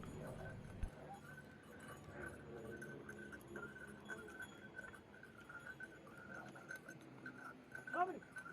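A mule carries riders up the mountain trail from Gaurikund to Kedarnath, its hooves clip-clopping faintly and steadily beneath ambient trail noise, with a louder clink near the end.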